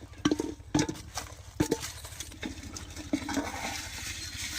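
Tomatoes, ginger, garlic and chillies drop into a cooking pot in several clattering bursts, with splashing, knocking and stirring sounds close by and no talk.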